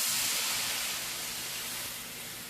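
Beef broth reducing in a hot pan gives a steady, close sizzling hiss that fades slightly over a couple of seconds, with no voices.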